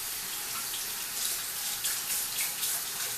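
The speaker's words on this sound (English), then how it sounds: "And I rinse off my brush head." Tap water running steadily into a sink while a face-cleansing brush head is rinsed under it, a close, even hiss with brief splashy swells, no talk.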